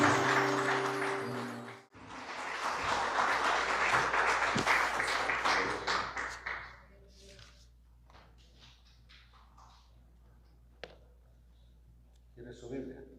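A church congregation at Calvary Chapel San Jose bursts into loud applause during a Spanish-language service, the clapping swelling for several seconds, then tapering into scattered claps and voices.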